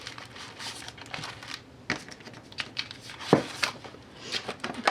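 Sheets of paper slid into a plastic zipper bag while packing February craft kits, giving close, soft crinkling and rustling with scattered sharper plastic crackles and rubbing, no talking.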